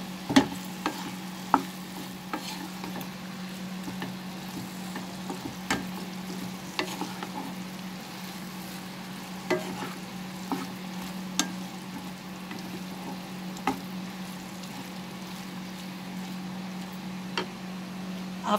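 Okra and fried onions are stirred with masala in a pan, a soft continuous sizzle broken by regular clicks and scrapes of a spoon against the metal, close and steady under a low constant hum.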